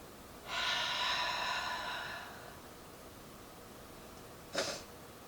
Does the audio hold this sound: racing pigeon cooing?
no